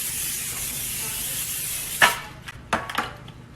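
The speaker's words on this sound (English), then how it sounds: "I'm gonna start by oiling the baking sheet." Cooking oil sprayed onto a baking sheet before honey garlic wings are baked: a steady close hiss that cuts off sharply, followed by a few short clattering knocks.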